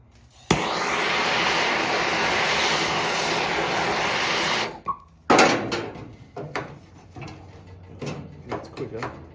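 Steady loud roar of a torch burning old sealer off the rusty firewall of an XA Coupe, running for about four seconds before cutting out, followed by scattered scraping and clattering.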